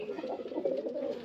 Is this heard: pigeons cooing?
yes